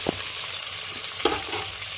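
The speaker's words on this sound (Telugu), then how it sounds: "అది కాగిన తక్షణ ఉల్లిపాయలు వేస్తున్నాను." Loud, dense sizzling of onions frying in hot oil, with a couple of brief clatters from the pan.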